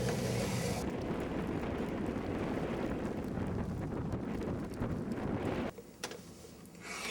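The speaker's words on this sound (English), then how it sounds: "And there is quite a lot of wind out there." Strong blizzard wind roars steadily through an open door in Annapolis during a February snowstorm, a loud broadband rush with buffeting on the microphone that briefly drops away near the end.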